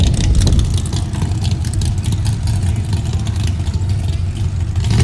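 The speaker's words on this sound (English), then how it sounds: "Oh, this fucking truck's coming again. That noisy one." Noisy truck engine rumbling loud and close at a dragway, a steady heavy drone running throughout.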